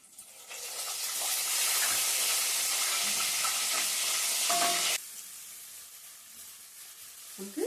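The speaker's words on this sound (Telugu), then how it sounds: "పోపు వేగిపోయిన తర్వాత ఉల్లిపాయలు కూడా వేసాను. చక్కగా ఈ ఉల్లిపాయలు మనం ఎర్రగా వేగనిద్దాం" Tempering spices crackle and sizzle loudly in hot oil, then the hiss drops abruptly as sliced onions go in and fry more quietly, close up with no talking.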